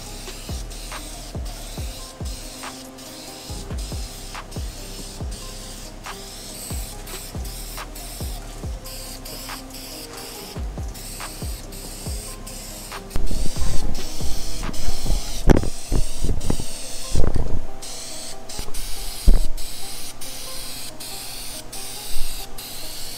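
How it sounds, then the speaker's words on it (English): Spray gun or aerosol applying clear coat to an Acura TL Type-S engine valve cover, steady hissing bursts repeated many times, louder and closer in the second half, with no talking. "now we can add more clear. So we're gonna go a little bit closer, go a tidbit slower, and we're gonna kind of work that gloss into there"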